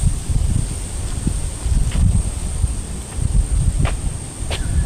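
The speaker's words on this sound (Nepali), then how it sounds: "हावा मात्रै चल्दैछ" Wind gusts across the microphone outdoors in a quiet spot, making low, uneven buffeting rumbles that swell and fade over a few seconds.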